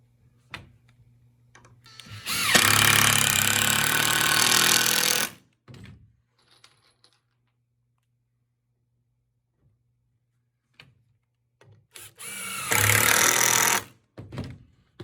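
A power drill drives screws into the wood of an Adirondack chair kit in two loud, sustained bursts of whirring, each a few seconds long, separated by quiet with faint clicks and handling noises.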